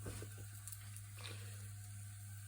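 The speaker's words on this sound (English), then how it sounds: "Cook them in that brown butter." Cauliflower steaks seasoned with paprika, garlic powder, onion powder, salt and pepper sizzle steadily in brown butter in a pan, a continuous close hiss over a low hum, with a few soft pops and no talking.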